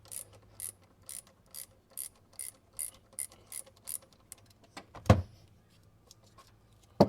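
A 10 mm wrench ratchets on the 12-volt battery's negative terminal nut in a Ford F-150, making a close run of short, evenly spaced metallic clicks, then a louder clunk and a final knock, no voices.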